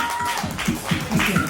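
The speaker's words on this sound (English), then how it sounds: "You need to give her a round of applause," Audience applause for actress Josie Ho, a brief burst of clapping partly mixed with a voice.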